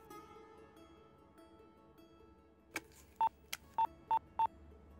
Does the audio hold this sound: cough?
no